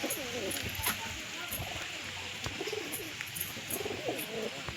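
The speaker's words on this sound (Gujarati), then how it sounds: "આપણું નવું કબૂતર છે" Soft, low pigeon coos repeat through a steady background hiss, with occasional sharp clicks nearby.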